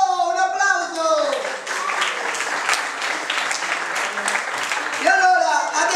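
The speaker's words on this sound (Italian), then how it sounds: "Un applauso!" Audience applause fills a cabaret show, dense clapping that swells between voices heard at the start and end.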